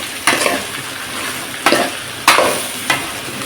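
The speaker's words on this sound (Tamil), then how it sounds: "இதெல்லாம் போட்டு நல்லா ஃப்ரை பண்ணிக்கலாம்." Ingredients with rock salt sizzle loudly in a pan for a Kovai-style dried fish curry, while a spoon scrapes and stirs in four distinct bursts over a steady frying hiss.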